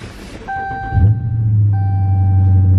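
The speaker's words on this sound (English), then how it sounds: "I'm going to start this car up, man, get this cool start inside the car." A 2020 Dodge Challenger R/T Scat Pack engine cranks and fires up, heard from inside the car: a brief starter whir, a loud catch, then a deep steady idle rumble, with dashboard chimes ringing over it.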